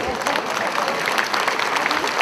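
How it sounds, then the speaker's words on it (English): At a school keynote talk, an audience gives loud, sustained applause for the adults in the room, a thick, even wash of clapping with faint voices mixed in. "How about a round of applause for all the adults in here?"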